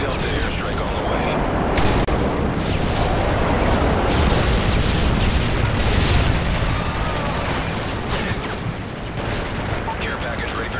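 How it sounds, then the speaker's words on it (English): Airstrike explosions in the shooter Modern Warfare 3, a dense continuous barrage of booms, gunfire and rumbling blasts filling the scene at high volume, with voices talking over the chaos. "Delta airstrike on the way."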